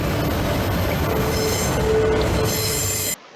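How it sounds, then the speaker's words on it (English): Train passes with squealing wheels and rumbling rail noise; a CSX SD23T4 diesel locomotive is involved. The sound is loud and close, with a steady roar and thin metallic squeal, then cuts off abruptly near the end. "This is an SD23T4. It is a brand new CSX exclusive locomotive"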